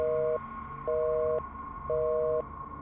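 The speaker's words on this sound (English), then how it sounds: "With my face left in complete shock, I quickly grabbed my phone and called Ben." A phone call rings out unanswered: three steady, evenly spaced ringback tones, each about half a second long, over a faint constant hum, with no voice.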